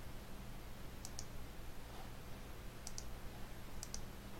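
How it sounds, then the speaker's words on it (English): Three crisp mouse clicks, the first and third pairs close together, spaced across a quiet room hum as an email send button in address book software is pressed. "clicking on the send button"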